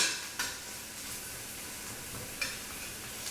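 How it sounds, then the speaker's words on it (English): Beef fat sautés in a pot with olive oil for carne guisada, giving a soft continuous sizzle with a couple of faint utensil clinks against the pot, quiet and close, no voices. "But saute the fat and keep the oils for the flavor."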